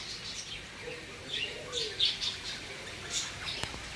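Caged lovebirds and ring-necked doves at a bird park give faint, scattered chirps and tweets over a quiet background, with a few brief calls standing out near the middle.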